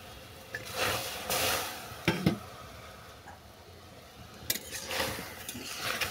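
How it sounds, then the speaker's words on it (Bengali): Stingray fish being stirred in a small amount of boiling water in a pan, giving a soft bubbling hiss with a few scraping stirs and utensil clinks, moderately close. "এটাকে নেড়ে চেড়ে সঙ্গে সঙ্গে জল থেকে নামিয়ে নিতে হবে"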